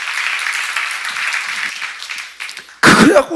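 A church seminar audience gives a round of applause, a sustained patter of clapping that thins out before a sudden loud burst near the end.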